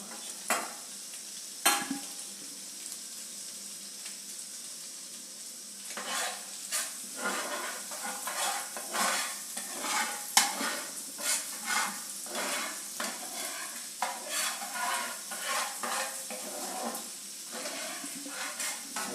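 Chillies fry in oil reused from frying boiled eggs, with a steady low bubbling sizzle broken by repeated sharp scrapes and clinks of a utensil against the pan.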